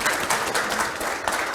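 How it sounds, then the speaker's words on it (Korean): Audience applause closing an academic forum session on low-birth-rate policy: steady, moderately loud clapping from a seated crowd filling the whole short stretch without a break. "큰 박수 부탁드립니다."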